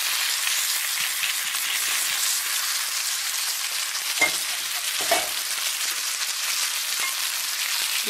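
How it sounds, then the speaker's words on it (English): Brussels sprouts and onions tossed in a hot pan, a dense continuous sizzle with a couple of soft utensil scrapes partway through, close and fairly loud. "Give them a little stir."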